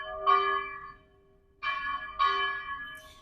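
Church bells ring outdoors at moderate volume in three separate clear tolls, each one sustaining and decaying, with a gap before the second and the third following close behind.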